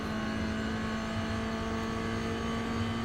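A Toyota GR86 race car at Red Bull Ring in iRacing, its engine droning steadily at high revs on a hot lap, loud and continuous from the cockpit.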